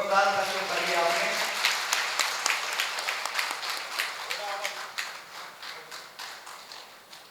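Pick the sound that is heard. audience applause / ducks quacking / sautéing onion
audience applause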